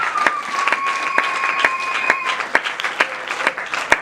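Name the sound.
congregation applauding in church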